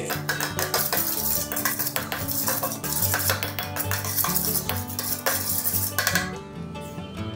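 A spoon stirs sauce and green chutney together in a bowl for chilled farali bhel, clinking and scraping against the bowl in quick repeated strokes over continuous background music.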